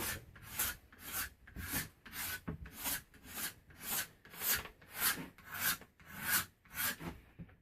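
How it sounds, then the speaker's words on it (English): A rasp works a yew wood bowstave during fine material removal, about a dozen rhythmic close rough scraping strokes in a steady back-and-forth pattern, with no talking. "now take my rasps, and this guy, I have got this smaller rasp right here"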